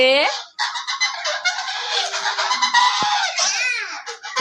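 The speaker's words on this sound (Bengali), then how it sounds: "হাঁস গুলোকে এখন ঘরে উঠানো হচ্ছে" Ducks being herded into their house honk and quack loudly and continuously up close, a dense, overlapping flock chorus, with a person's voice calling among them.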